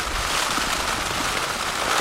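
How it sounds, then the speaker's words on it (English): Steady rain patters and splashes onto a lightweight cuben-fibre Trailstar tarp shelter on Dartmoor, a dense continuous hiss of drops close by with no voices. "there was a little bit of rain ingress still splashing up"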